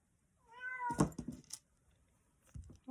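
A house cat gives a clear, close meow with a rising-falling pitch, followed by a couple of soft knocks and a brief second sound near the end, in an otherwise quiet room.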